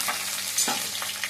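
Green chilies fry in hot oil with crushed garlic and curry leaves for a beetroot palya, giving a steady close crackling sizzle with a few brief louder pops and stirring scrapes.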